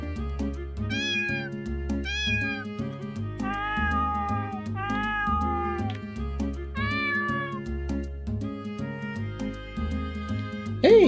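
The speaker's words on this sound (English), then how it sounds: "Wait, these are cats?" Several cats meow repeatedly, clear and close, with distinct rising and falling calls spread over a steady musical background.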